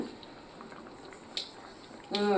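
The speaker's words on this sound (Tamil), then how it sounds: "பாருங்க, சூப்பராக கொதிச்சிருச்சு, நல்லா வெந்துருச்சு." Fish and raw mango curry simmering in a pot, a soft steady bubbling and burble at close range, swelling into a louder rush of boiling near the end; no one talks.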